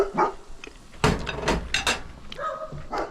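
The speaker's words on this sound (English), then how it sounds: "Why are we barking?" A dog barking indoors in a home kitchen, several short, sharp barks and yips in an irregular burst, close and fairly loud over a little background clatter.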